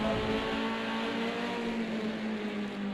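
Vintage touring race car engine from the Project Cars 2 racing game droning steadily at high revs with a strong tonal whine, loud and continuous throughout, no voices.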